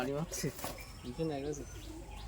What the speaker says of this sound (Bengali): প্রচুর অ্যাগ্রেসিভ পিজনস